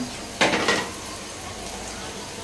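Green chillies dropped into hot oil while cooking chickpea (boot) dal bhuna give a sudden burst of sizzling that rises then settles into a softer, steady crackle, close by with no talk.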